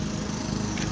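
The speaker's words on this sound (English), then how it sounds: "But the man is lawn mowing." A lawn mower cuts the grass in Mary Stevens Park, its steady, fairly close engine drone running throughout with no one speaking.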